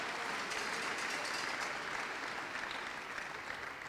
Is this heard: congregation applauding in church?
yes